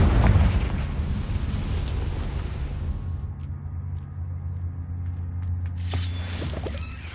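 A Confringo blasting curse goes off in Hogwarts Legacy as a booming explosion with a deep rumbling tail, followed by a quieter stretch and another rising blast near the end, low-end heavy and fairly close.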